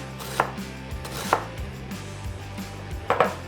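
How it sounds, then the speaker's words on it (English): A knife thinly slicing a purple onion on a board: a few sharp, distinct chops spaced irregularly with quieter cutting between, close and fairly loud, no voices. "Purple onion. We're gonna cut."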